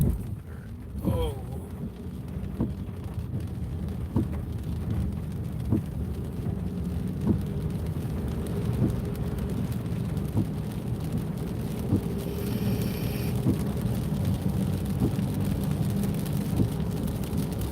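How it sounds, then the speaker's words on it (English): Heavy rain falls in Central Florida with a steady hiss and patter over a low rumble, while people converse nearby. "It is raining harder"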